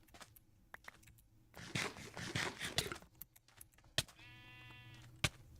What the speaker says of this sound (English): I probably can't kill a sheep before it runs away.